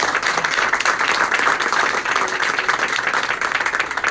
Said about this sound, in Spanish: Give a round of applause to our operations manager, Miss Christine.